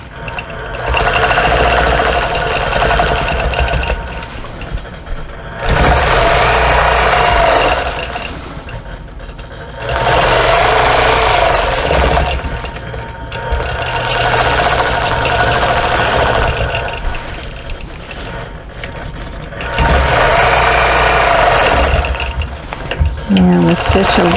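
A sewing machine stitches while quilting a table runner, running in four or five loud, rapid mechanical bursts separated by short pauses, close by.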